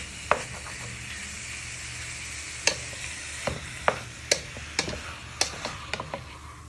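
Beef pieces fry in a pan under a steady soft sizzle while a wooden spoon knocks and scrapes against the pan in a string of sharp, irregular clicks, close by with no talking.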